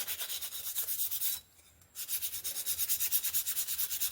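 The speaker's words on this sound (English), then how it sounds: "you can sharpen on just about anything, including this really high grit sandpaper" Forged herb chopper blade rubbed in steady rhythmic strokes across high grit sandpaper, a close, soft scraping sound that pauses briefly midway before the strokes resume.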